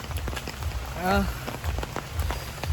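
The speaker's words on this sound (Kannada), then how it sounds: "ಮಳೆ ಬೇರೆ ಜೋರಾಗಿ ಬರ್ತದೆ" Heavy rain pours steadily in Wayanad, Kerala, with a dense, constant hiss, and a brief voice-like sound rises through it for a moment.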